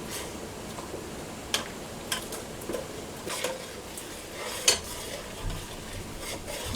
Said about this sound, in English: And I'm going to stir that up good.